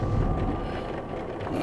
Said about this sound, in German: Das ist der Regen und der Wind.